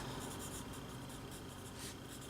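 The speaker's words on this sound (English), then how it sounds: "I'm going to write that down" Pen or pencil writing by hand on paper, a steady faint scratching that runs throughout with no talking, ending on a small sharp tap.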